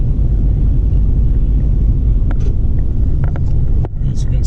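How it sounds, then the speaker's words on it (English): Steady heavy road traffic rumbles near the Seattle viaduct demolition site, a loud continuous drone of passing vehicles with a few brief higher clatters toward the end. "As you can see, traffic is wonderful here."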